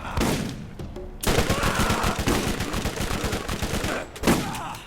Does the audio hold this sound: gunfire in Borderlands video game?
yes